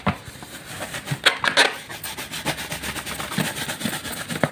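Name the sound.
object being rubbed for static electricity demonstration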